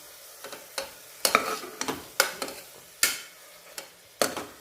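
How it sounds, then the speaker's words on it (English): Boiled eggs sautéed in biryani on a low flame, a spoon scraping and clinking against the pan in irregular sharp strokes over a soft, steady sizzle, close and clear with no talk. "Keep sauteing for 2 minutes in a low flame."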